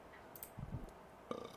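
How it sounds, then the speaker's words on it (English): A character burping in the video game Lost Flame: a short, low, soft belch with a couple of quick gurgling pulses, followed by a faint click, quiet and alone. "did he burp something up again?"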